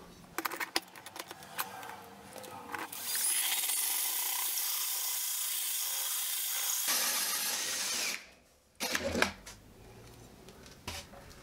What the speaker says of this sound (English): and drill your hole